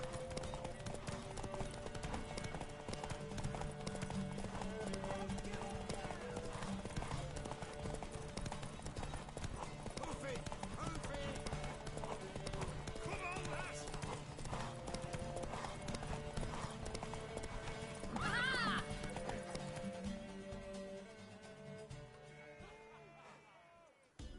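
Rhythmic clip-clop of a horse's hooves at a fast gallop in the video game The Witcher 3, over a music-like background, with a brief whinny near the end before it fades out.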